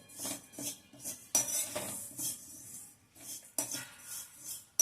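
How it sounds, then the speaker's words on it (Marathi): A spoon stirs fenugreek seeds dry-roasting in a pan, giving soft repeated scraping and light clinks in an uneven rhythm, close but quiet, with no talking. "मीडियम फ्लेमवर सतत हलवत भाजायचे, म्हणजे मग ते सगळीकडनं सारखं भाजलं जातं"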